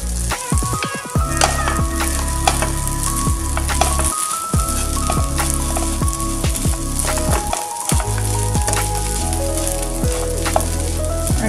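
Fodnichi poli, seasoned leftover chapati, is stir-fried in a pan: a loud, steady sizzle runs throughout, broken by repeated scrapes and clinks of a utensil stirring.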